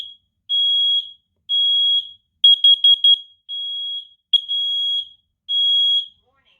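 A Kidde smoke and carbon monoxide detector sounds its alarm: loud, piercing high beeps in separate long tones with a quick burst of short chirps between, evenly paced and close, with silence between pulses.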